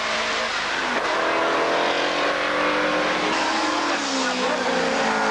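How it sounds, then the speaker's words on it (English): Race cars, including a Lotus Elan, pass at speed on a motorsport circuit during a TVR SEAC event, a loud continuous engine roar with shifting pitch as cars go by, under a commentator's voice. "that's Chris Wilson in the Lotus Elan"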